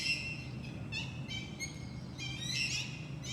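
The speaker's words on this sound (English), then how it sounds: "These birds are scrapping behind me." Birds squabble in Brisbane, giving repeated faint, shrill chattering calls in short bursts over a low, steady background hum.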